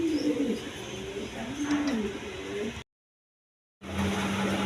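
A pair of pigeons at a farm gives soft, rolling coos close by over a low background hum, then the sound cuts out completely for about a second before the ambience returns.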